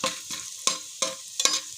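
Chopped onion sizzles in a frying pan, a bright steady hiss broken every third of a second or so by sharp stirring scrapes, loud and close.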